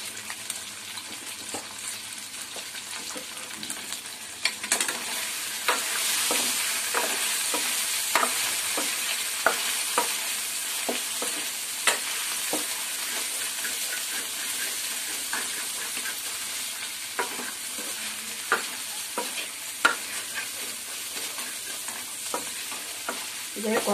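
Colocasia (seppankizhangu) roast stir-fried in a pan with asafoetida and salt, giving a steady close sizzle for the whole stretch, with repeated scraping and stirring strokes and no talk.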